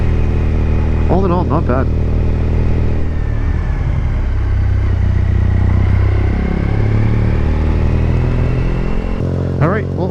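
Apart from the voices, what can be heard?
Triumph Bonneville motorcycle with TOR exhaust running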